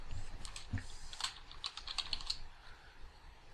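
Quiet, quick keystrokes patter on a computer keyboard in an irregular run as a mission name is typed into the ArmA 3 editor, with no voices.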